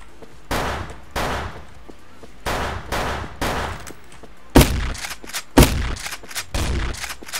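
Shotgun blasts in the online shooter Wolfteam come as heavy, separate booms spaced about a second apart. About eight loud shots land close, with a couple of sharper hits near the end and quiet gaps between them.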